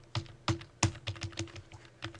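Computer keyboard typing in a series of sharp, irregular keystroke clicks with brief pauses between bursts, close and moderately loud, with no voices.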